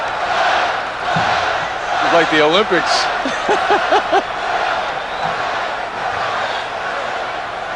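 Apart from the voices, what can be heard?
basketball crowd chanting at slam dunk contest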